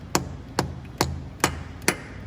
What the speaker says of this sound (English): So you just take your rubber dead blow hammer and you just kind of tap on it